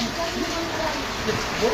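Heavy rain pours down steadily in Sri Karanpur, Punjab, over cotton fields, making a dense, continuous hiss that stays loud and even throughout.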